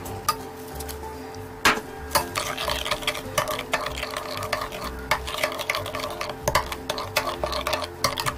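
Sugar, oligosaccharide syrup and chili powder being mixed into a seasoning paste for a fresh perilla-leaf kimchi salad, with steady scraping and stirring strokes and sharp clinks of a utensil against the bowl, close and alone.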